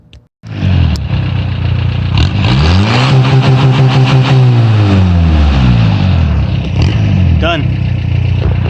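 Car engine with a custom ALH tune revving hard during a test drive, loud and close, with a rising and falling whine that climbs through the revs and settles back; brief knocks at the start and end.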